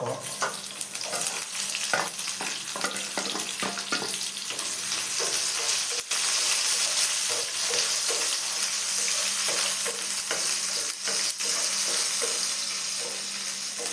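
Cut onions and a dried red chili frying in a pan for kadambam sambar, a dense steady sizzle with repeated spoon scrapes and crackles, close and continuous without talk.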